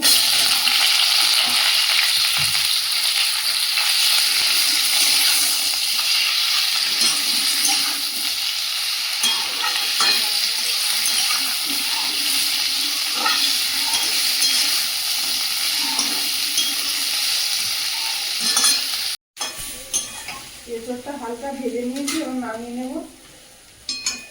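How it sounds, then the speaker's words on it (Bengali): Boiled green jackfruit fries in mustard oil in a wok, a steady close sizzle with occasional stirring clatter before a short cut to quieter kitchen sounds and faint voices. "সেদ্ধ করা এঁচড়টা হালকা ভেজে নেব"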